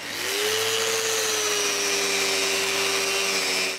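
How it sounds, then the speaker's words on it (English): A power sander runs steadily and loudly, sanding off excess from glued wooden finger joints on a staircase gate, with a sustained whine holding the same pitch throughout and no talking. "I can sand the fingers excess"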